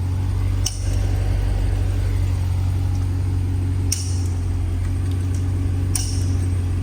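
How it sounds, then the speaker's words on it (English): A modified Cadillac Escalade V set to its loud V exhaust mode idles with a steady, deep low rumble. A few sharp clicks sound over the engine's drone. "Yes, it's in the V mode."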